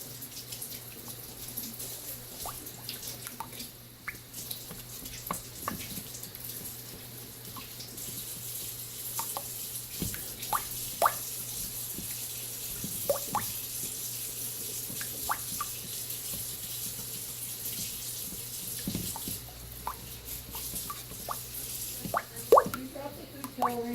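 Water running from a sink tap into a basin, a faint continuous splashing with scattered plops and clicks, heard close by alongside occasional voices talking.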